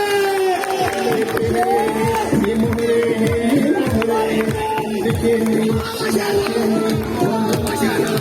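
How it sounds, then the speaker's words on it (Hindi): A crowd at an outdoor election campaign rally in Jamilabad, Wah Cantt, cheers and claps to welcome a speaker. The noise stays loud and dense throughout, with shouting voices and chatter mixed into the applause. "खड़े होकर भरपूर तालियों में इस्तकबाल कीजिएगा"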